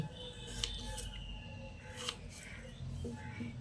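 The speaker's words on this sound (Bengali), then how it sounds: "গাঠি কচুগুলোকে এরকম চাকা চাকা করে কেটে নিচ্ছি" A knife cuts peeled gathi kochu (taro) into round slices, giving a few faint crisp strokes at a steady pace over a low room hum, with no talk.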